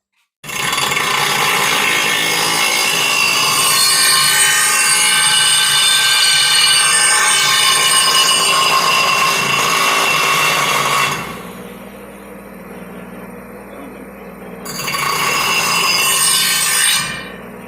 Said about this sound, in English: You see there's no guard on this grinder.